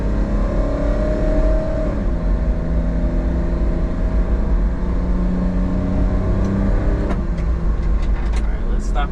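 Automatic Kei truck pulling away under acceleration, engine drone rising steadily through its gears as a constant loud cabin hum, with speech-like tones mixed in.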